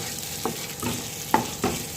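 Spice paste sizzling in oil in a pan while chicken curry cooks, a soft steady frying hiss broken by a few quick stirring scrapes, close and fairly quiet, with no talk.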